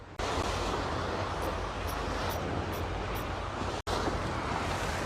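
Strong wind at sea off a small rocky island during squid fishing, a dense steady roar with surf mixed in, loud and continuous with one brief dropout near the end.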